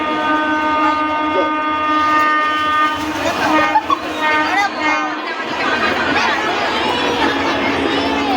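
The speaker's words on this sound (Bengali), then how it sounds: "আমার ট্রেন এসে গেছে" A train pulls in with a loud, sustained horn blast over a steady rumble of rolling wheels, and voices murmur faintly in the background as the horn fades.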